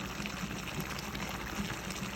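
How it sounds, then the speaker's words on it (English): Boiling water being poured into a pot of cooking fresh garden green beans gives a steady, close bubbling wash of liquid with no talk over it. "add boiling water to them just a little, not a lot,"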